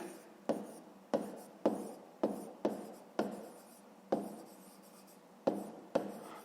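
A pen writes by hand on paper during a fifth-grade maths exercise, a series of about ten short scratchy strokes, each starting sharply and trailing off, close and quiet.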